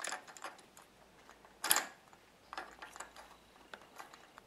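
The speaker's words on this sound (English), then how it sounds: "I'm going to go in with my extension, clip it into the socket. I'm just going to snug it by hand here." Socket on an extension turned by hand to snug a spark plug on a Kawasaki Vulcan 800 motorcycle, giving faint scattered ratchety ticks and clicks with one sharper metallic clack, close and quiet.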